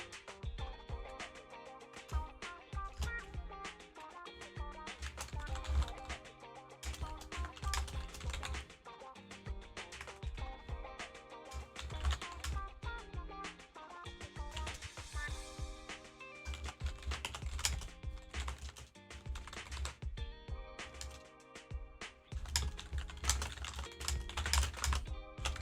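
Rapid clattering keystrokes on a computer keyboard, continuous and close, with dense irregular clicks and occasional heavier key presses running throughout.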